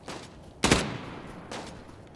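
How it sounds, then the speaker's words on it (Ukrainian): Gunfire in Arena Breakout: Infinite rings out in short bursts: one sharp, loud volley followed by a fainter shot a moment later, with nobody talking. "Стріляють."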